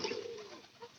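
A domestic pigeon gives a soft, short coo close by, a single low throaty call that fades within a second.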